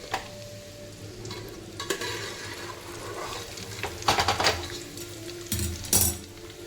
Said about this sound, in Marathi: आता आपले पोहे झाले भाजून डाळ झाली भाजून